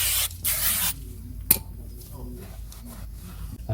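Spray cleaner hisses onto a Ford Fiesta Titanium MK7 brake disc in a close, loud burst lasting about half a second, followed by a sharp tap and quieter rubbing and handling noises.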